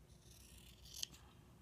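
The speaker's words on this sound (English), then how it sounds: "I'm going to cut right along the side seam" Scissors snipping through a thrift store garment along its side seam, a single quiet crisp cut near the middle, close and isolated against a low background hum.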